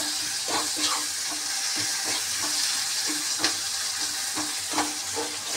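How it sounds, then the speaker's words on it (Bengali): Onions frying in a pan for a Bengali fish curry give a steady, close sizzling hiss, broken by scattered light clicks of stirring, with no talking. "পেঁয়াজগুলো এখনো ভালোভাবে ভাজা হবে"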